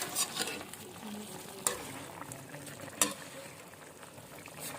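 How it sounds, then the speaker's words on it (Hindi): Potato and cauliflower curry sizzles in a pan over high heat while a spoon scrapes and stirs it, with a few sharp clinks against the pan. "चलो थोड़ी तेज आंच पे पका लेते हैं, क्योंकि सब्जी ऑलमोस्ट बन रही है।"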